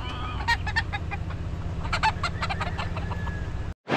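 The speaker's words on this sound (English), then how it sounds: "Some good looking roosters." Roosters crow and cluck outdoors in Hawaii, with several clucks and a crowing call heard close and loud over a low steady background hum.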